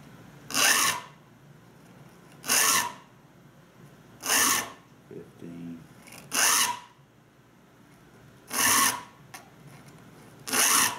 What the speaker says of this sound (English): I'm gonna take this file where as it was flat across the top, I'm gonna lean it slightly forward